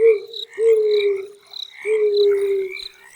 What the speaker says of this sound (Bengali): শুধু ঝিঁঝি পোকার আর ব্যাঙের শব্দ